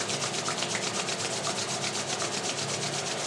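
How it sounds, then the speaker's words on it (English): Two hands rub briskly together, a steady, close, dry swishing friction with a quick back-and-forth rhythm, heard alone and fairly soft. "bring your hands together, rub them together, create some friction"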